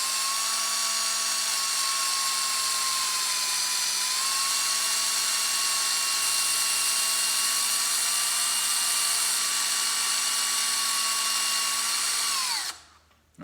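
A neck turning tool shaves a rifle cartridge case neck in one long, steady whirring cut of high tonal hum, close and loud, winding down and stopping at the end with no talking.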